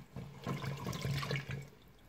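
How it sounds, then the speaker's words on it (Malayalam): Water is poured into a cooking pot of white and green beans with papaya for a kurma, a short gurgling splash of liquid running in for about a second and a half, fairly soft and close. "വെള്ളം കുറച്ചുകൂടി വേണം"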